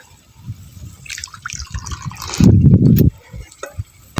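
Water splashes and gurgles into a cooking pot in a short, full pour after scattered light drips and clinks, then trickles off, while village chicken curry is being prepared.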